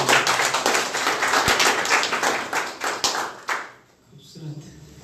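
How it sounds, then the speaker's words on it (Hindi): Audience at a church gathering clapping together in a loud, dense burst of applause that goes on for about three seconds before fading into a quieter room, with a voice over it near the end. "एक बार फिर से जोरदार ताली"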